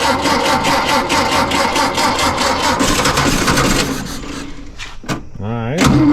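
A 1952 Volkswagen Beetle engine, revived after a stuck carburetor needle valve was freed, runs with a rapid, rattling idle that fades and stumbles toward the end, where voices are heard.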